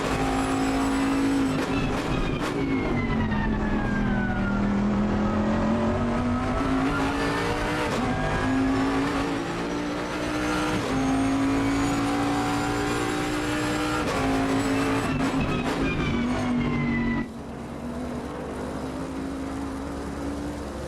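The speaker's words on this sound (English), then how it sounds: "that was the fabulous Bentley there, the engine sounds." A Bentley GT3 race car engine in the Assetto Corsa Competizione racing game at Oulton Park roars loudly and steadily, its pitch rising and falling through gear changes, with a brief drop in intensity near the end.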